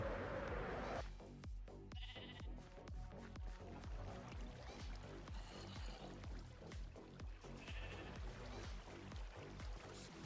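Minecraft sheep bleat repeatedly at a wool farm, several overlapping in-game calls over a steady game background with no one talking.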